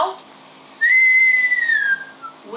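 A single sustained whistle made while breathing out during an asthma and COPD breathing exercise, rising then sliding gently downward, clear and close for about a second with quiet room tone before and after.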